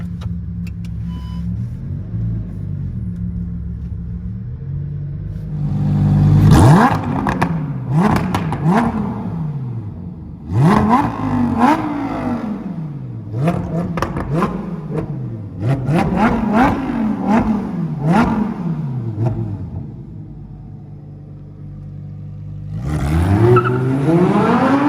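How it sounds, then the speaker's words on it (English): Lamborghini Huracan EVO RWD with its 5.2 V10 idling low, then revving hard and accelerating in repeated rising surges, loud and close, settling back between pulls before a final rev. "going for a drive in this lovely Huracan EVO rear-wheel drive"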